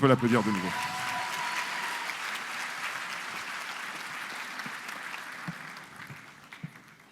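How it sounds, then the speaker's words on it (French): A voice speaks briefly at the start, then a crowd claps steadily, the applause slowly thinning toward the end. "on peut applaudir Annabelle, messieurs, dames"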